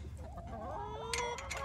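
Hens cluck close by in a backyard coop while eggs are being collected, a steady stream of warbling and squawking calls with rustling, no speech.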